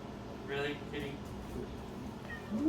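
A house cat gives two short meows close by, over a steady hum of air conditioning.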